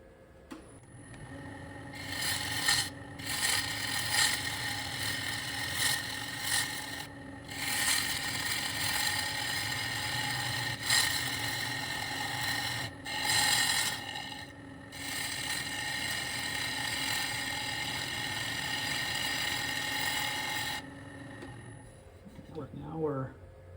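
A wood lathe turns a segmented bowl supported by a steady rest while a tool cuts it, giving repeated rough scraping and shaving bursts over a low motor hum, with someone talking across much of it.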